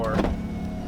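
The electric power windows of a 1997 Honda Civic Coupe with freshly tinted glass lower with a brief motor whir, heard close inside the car while a voice talks over it.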